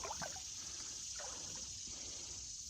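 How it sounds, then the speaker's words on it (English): Creek water trickles and dribbles over rocks along an eroded bank, a faint, steady babble with soft irregular splashes and no voices. "We're in a creek."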